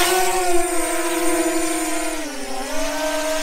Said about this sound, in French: Voilà, il va démarrer les moteurs, je ne sais pas si vous entendez